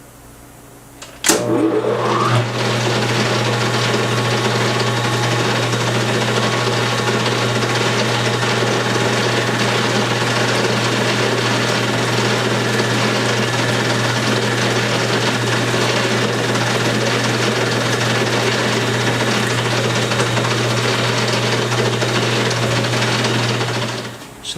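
A machine bores a hole out to roughly 2 inches in a workshop, a steady, loud grinding whir with a low constant hum that starts abruptly after a brief quiet moment and runs unbroken to the end.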